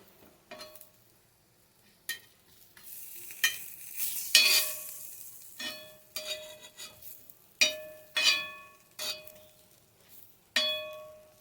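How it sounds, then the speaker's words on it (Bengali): Thin vegetable slices fry in oil in a pan, with a quiet sizzle broken by a series of sharp metallic clinks and scrapes as the slices are stirred and flipped. "এবার তেল ছড়ি ছড়ি ভাজতে হবে"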